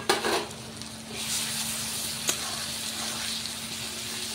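Onions frying in oil with whole spices and ginger-garlic paste for a chicken dish: a steady, fairly loud sizzle with a low hum underneath and one sharp utensil tap partway through.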